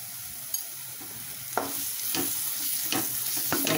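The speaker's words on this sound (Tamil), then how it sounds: "ரெண்டு நிமிஷம் நல்லா எண்ணெயில் வதக்கிக்கலாம் சிம்மில் வச்சு" Masala for a Tamil chickpea kulambu sizzling in oil on a simmering pan, a steady close frying hiss with a few sharp clicks and stirring scrapes throughout.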